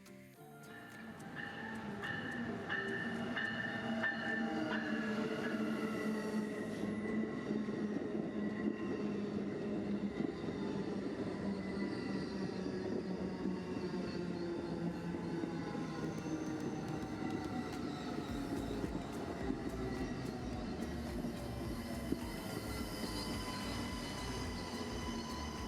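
An Amtrak NextGen Acela high-speed train rolls into a station steadily with a rumbling, clattering drone and faint wheel squeal, continuous and fairly close, no voices.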